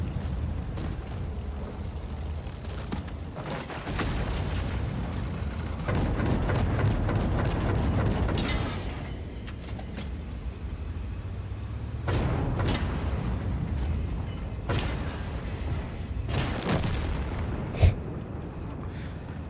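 Ares 90 C tank cannon firing in a video game, several loud booming blasts at intervals with rumbling tails between them, plus one sharp thud near the end.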